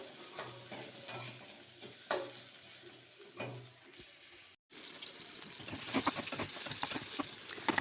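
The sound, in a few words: food frying crisp in oil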